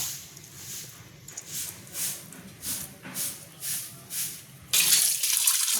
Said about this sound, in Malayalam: കാന്താരി ചിക്കൻ ഉണ്ടാക്കാൻ വേണ്ടിയിട്ട് ആദ്യം നമുക്ക് ചിക്കൻ കഴുകി വരാം